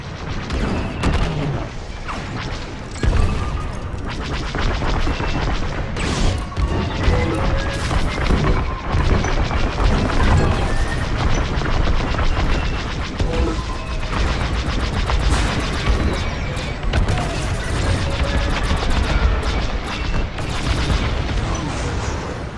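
Rapid starfighter blaster fire and explosions in the space combat game Star Wars Squadrons, loud and dense throughout with crashing impacts and engine roar, a continuous barrage of zaps and booms.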